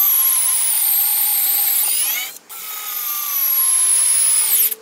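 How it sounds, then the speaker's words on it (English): A Bosch IXO 6th generation 3.6 V cordless screwdriver with drill attachment drives a 3-inch screw into wood, a loud steady high motor whine that dips briefly midway, then resumes and winds down at the end. "I'm going to drill into a piece of wood and drive in the 3-inch screw"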